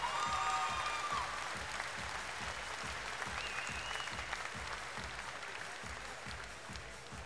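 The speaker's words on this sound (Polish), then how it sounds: "Jeszcze raz wielkie brawa." Audience applause after a junior K1-rules kickboxing ranking bout in the 65 kg class, steady dense clapping from a crowd holding loud and continuous across the whole stretch, tapering only slightly at the end.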